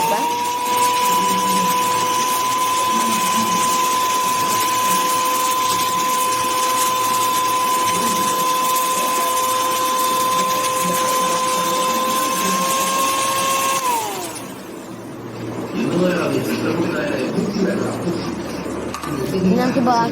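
An electric mixer beats sugar for a homemade black forest cake with a steady high motor whine that winds down and stops partway through, followed by softer kitchen clatter and some talking.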